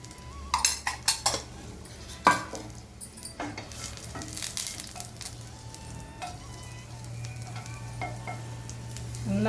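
Asafoetida frying in hot oil in a pan, a soft steady sizzle beneath several sharp clinks and scrapes of a spoon against the metal pan, close and moderately quiet.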